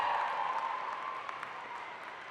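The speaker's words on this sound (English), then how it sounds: "I invite the members of the graduating class to reciprocate by applauding your family, friends, faculty, staff" Graduating class at a degree ceremony applauding their families, friends and faculty, a fairly faint, even patter of many hands clapping in a large hall, continuing steadily and tapering slightly, with no voices.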